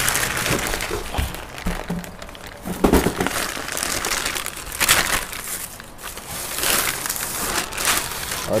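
Plastic packaging crinkling and crackling as it is unwrapped by hand, close and continuous with louder crunchy bursts, and no talking.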